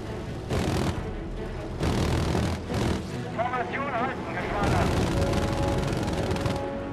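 Sustained automatic gunfire and explosions roar through Battlefield V combat, dense and loud, with brief lulls and a rising whine partway through, while a voice talks over the battle.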